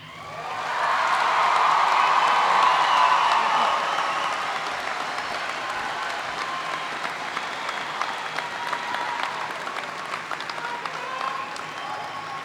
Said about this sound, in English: A round of applause for the class of 2018.